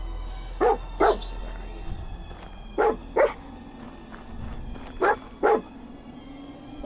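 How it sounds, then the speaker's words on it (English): A dog in the Fallout 4 video game barks in three evenly spaced pairs of sharp woofs over a steady low hum of game ambience. "What are you barking at?"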